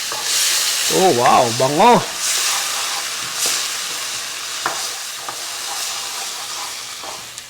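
Pancit guisado sizzling and frying in a pan after soy sauce goes in, a steady hiss with scraping stir strokes, close up; a voice briefly exclaims near the start, then the sizzle carries on alone.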